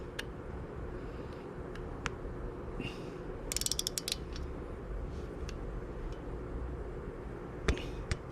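A torque wrench ratchets in a quick run of clicks while tightening a bolt on a Royal Enfield Scram 411 engine during a performance cam install, faint and close over steady room noise, with a few scattered taps.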